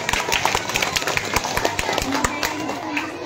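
Girl students at a madrasa in Purnia clap for a correct answer: a quick, steady run of close, crisp handclaps with overlapping, uneven beats that carries on throughout.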